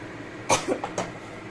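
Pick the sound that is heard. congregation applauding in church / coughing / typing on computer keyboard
coughing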